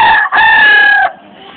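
A single loud, close rooster crow, sustained and harmonic, cutting off abruptly into quiet background.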